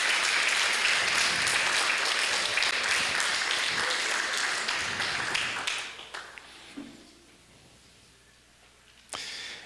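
A church congregation applauds, loud sustained clapping for several seconds that fades and thins out, leaving a quiet room with a few scattered claps and one sharp final hit.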